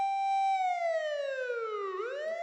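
A police car siren wails in one long, clear tone that slides steadily downward and then sweeps back up, loud and alone with no voices.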